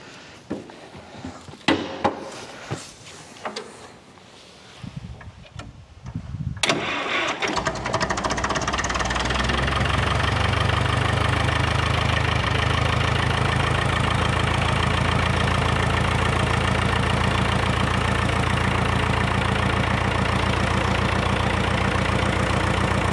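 A diesel engine converted to run on gasoline cranks and fires, then settles into a loud, steady, close idle with a continuous rumble and no talk over it.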